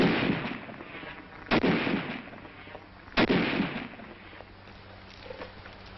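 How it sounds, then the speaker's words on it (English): Bursts of Tommy gun fire, two sharp, loud volleys with rumbling echo between them and scattered crackling shots, heard without talk. "A Tommy gun."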